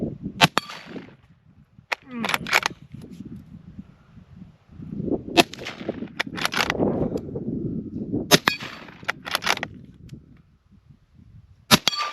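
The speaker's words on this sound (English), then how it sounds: "We're gonna shoot just 5 more rounds just to see what happens" Ruger American .308 bolt-action rifle fired outdoors, about five sharp separate shots spaced a few seconds apart, with the rifle working and voices talking between them.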